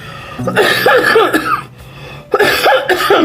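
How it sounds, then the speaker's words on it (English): A person coughs in two harsh bursts, close to the mic, with a brief pause between them. "I just started coughing"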